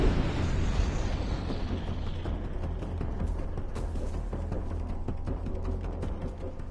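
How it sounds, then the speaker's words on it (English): Napalm strike explosion in the game Assassin's Creed Shadows, a heavy sustained roar and rumble from the start with scattered pops and bursts continuing throughout. "Incoming napalm strike."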